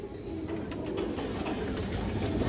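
Pigeons of several fancy breeds in a loft give continuous overlapping soft cooing close by, over a dense, steady bed of flock noise, with no clear talking.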